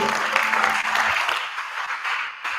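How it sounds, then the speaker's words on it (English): Audience applause at the closing session of a democracy and rights festival in Kenya, dense steady clapping from a crowd that holds for the whole stretch and thins slightly near the end. "All right, keep on clapping, keep on clapping."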